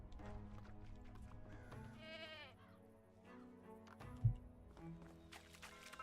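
Goats bleat on a farm in the medieval life game Medieval Dynasty, repeated wavering calls at moderate distance over steady ambient game sound, with one short louder knock partway through.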